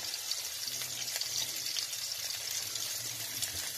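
Gyoza frying in a pan, a continuous bright sizzling hiss with fine crackles, steady and fairly close at a moderate level, with no voices.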